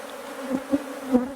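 Honey bees from a colony with a newly introduced Saskatraz queen hum in a steady, low buzz, with a few louder passes as single bees fly close by.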